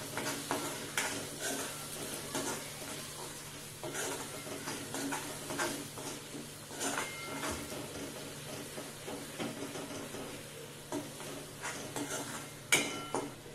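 Masala sautés in hot oil for an egg masala curry as a spatula stirs it, giving a soft, steady sizzle with repeated scraping strokes against the pan. The sound stays close and low-key, with no talking.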